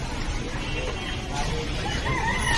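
Chickens cluck and call at a busy poultry market selling Sonali hens and ducks, the fowl noises fairly close amid a constant hubbub of crowd chatter.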